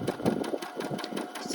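Sewing machine running a single long line of stitching along fabric for gathers, a steady close mechanical whir with rapid needle chatter throughout, no talking.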